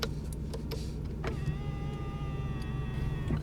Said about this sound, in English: So you actually have 4 power windows right there, 1, 2, 3, 4.